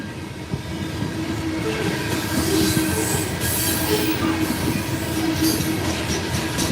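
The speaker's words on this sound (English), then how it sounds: "this is a loaded coal train" A loaded CSX coal train rolls steadily past at close range, its wagons producing a continuous rumbling roar with faint wheel squeal and rhythmic rail clatter throughout.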